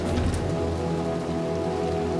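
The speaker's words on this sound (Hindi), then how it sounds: "यहाँ पे बारिश हो रही है अच्छी खासी" Steady, dense rain falls in a dark, eerie scene of the video game Little Nightmares 2, a constant close hiss with no voices.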